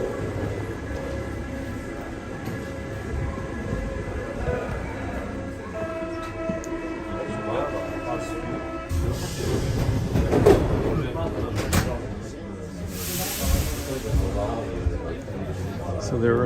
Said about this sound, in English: I've been riding the metro all the time.